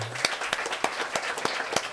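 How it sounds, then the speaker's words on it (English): Sparse, spaced claps from a small audience at a festival storytelling talk, roughly one distinct clap every third of a second, fairly faint over a quiet room. "Let's get one round of applause."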